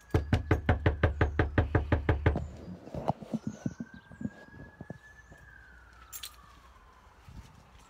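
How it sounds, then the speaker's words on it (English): Someone knocks on a door with a fast run of about fifteen sharp raps, loud and close. A few quieter knocks follow, with a faint siren wailing in the distance. "let's knock on the door"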